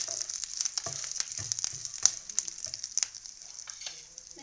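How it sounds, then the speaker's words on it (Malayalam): Grated coconut roasts in a pan, giving a soft, low sizzle under scattered scrapes and clicks of a spoon stirring it. "നന്നായിട്ടൊന്നും കൂടെ ഇളക്കിയതിന് ശേഷം നമുക്ക് ഇതിനകത്തിലോട്ട് ആ എടുത്തു വെച്ചിരിക്കുന്ന തേങ്ങായും കൂടെ ഇട്ട് നല്ലോണം ഒന്ന് വറുത്തെടുക്കാം."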